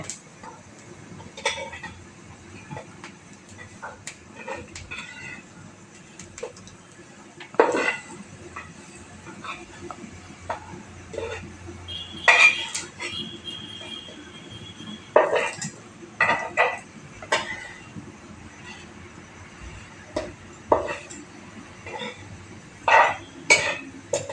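Potato slices shallow frying in a pan as they are turned, giving scattered clinks and scrapes of a utensil against the pan over a steady low background, with several sharper knocks.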